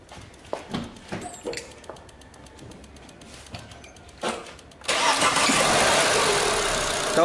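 A car engine cranks over after a few scattered knocks and birdsong, then catches and settles into a steady, close idle, on a car with weak engine torque and excessive fuel consumption.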